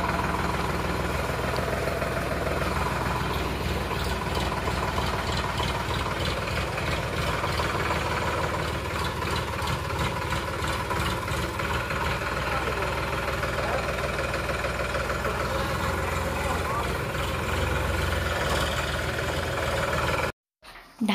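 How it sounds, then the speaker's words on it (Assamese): A tractor engine runs steadily with a heavy, knocking idle that stays loud and close throughout, ending abruptly at the end, as relatives arrive in the evening. "এয়া সন্ধিয়ালৈ মাহেঁত পালেহি ট্ৰেক্টৰতে আহিলে"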